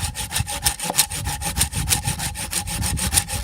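A Fiskars hand saw cuts through wood in steady back-and-forth strokes, each rasping pass close and loud, repeating in a quick even rhythm with no voices.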